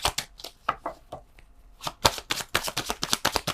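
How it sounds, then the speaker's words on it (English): A tarot deck is shuffled close by, with quick papery riffles and taps in uneven bursts that pick up into a rapid flurry toward the end. "One more shuffle."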